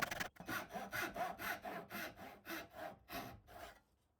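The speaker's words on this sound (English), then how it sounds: "I'm cutting in part way with the saw all the way around using this little jig" A hand saw cuts part way around a wooden chisel handle held in a small jig, giving about eight even, rhythmic rasping strokes, close and fairly quiet, with no talk.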